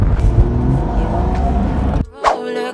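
A Porsche 981 Boxster engine runs loud and steady, then cuts off abruptly, followed by a brief rising rev or whoosh as the car moves away.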